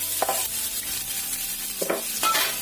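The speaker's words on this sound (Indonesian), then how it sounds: "Setelah minyaknya panas, kita masukkan bawang bombaynya, bawang putih" Onion and garlic sautéing in hot oil over medium heat, a close sizzle broken by a few sharp spatula scrapes and stirs, no voices.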